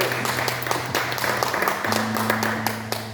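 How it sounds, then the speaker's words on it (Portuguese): Congregation clapping during a church service, a steady run of claps over sustained low tones that continue throughout. "Que as palmas louvam o nome do Senhor Jesus."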